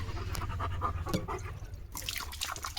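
A dog pants rapidly and rhythmically close by, with faint lapping or dripping water sounds mixed in.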